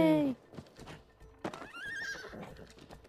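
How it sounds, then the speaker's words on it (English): In the It Takes Two video game, a horse gives a loud whinny at the start, followed by quieter clip-clop hooves and game sounds. "The horse goes."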